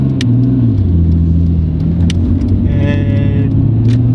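A Nissan Skyline R34 GT-R engine revs up and down close by, its pitch rising and falling in a rough, throaty rumble.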